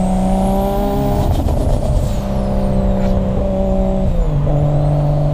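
A Nissan Skyline drift car, an RB25 R32 with a 3071 turbo making about 600 horsepower, pulls hard on an open road: a loud, close, droning engine climbs steadily, a thin high whistle sweeps above it, and a shift near the end drops the pitch.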